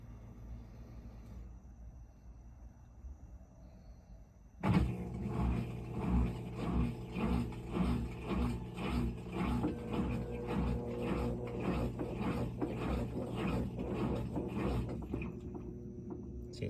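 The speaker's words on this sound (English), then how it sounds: "See, it spins, started to spin." A GE washing machine that struggles to spin starts up after a quiet hum, then churns with a loud rhythmic rumbling and thumping, pulsing steadily as the drum tries to turn.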